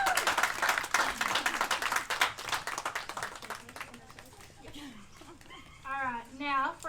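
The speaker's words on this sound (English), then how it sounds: "give her another big round of applause." Dense clapping from an audience at a seventies-themed charity pageant fills the first few seconds, tapering off as a person starts talking over the fading applause.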